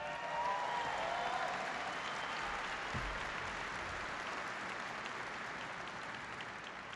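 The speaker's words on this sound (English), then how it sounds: "So give them a big round of applause." Troops at a base in Afghanistan give a big round of applause, a dense, steady wash of clapping from a large crowd that holds at an even level for several seconds.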